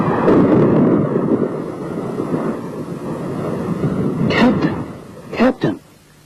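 A thunderstorm sound effect rolls through with a loud, sustained rumble and windy roar. A couple of sharper crackling bursts near the end suggest nearby thunderclaps.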